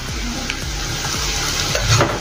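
Softened onions with red chilli powder, turmeric and coriander powder stirred in a pan for dry gawar phali sabzi: a spoon scrapes in repeated rhythmic strokes over a constant sizzle, close and clear, with no talk.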